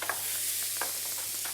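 Leek and garlic fry in butter in a pan for a cannelloni filling of chicken, pancetta and sage, giving a steady close sizzle broken by a few soft stirring scrapes.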